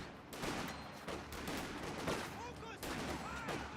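An MG42 machine gun fires from inside a bunker in Company of Heroes 2, with rattling bursts amid other battle noise and some distant shots, heard under a steady battlefield din.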